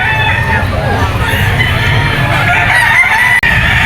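A Kanawayon Yellow Legs stag rooster at Grotto Pet Market crows loudly and close, one drawn-out call against a busy market background with voices.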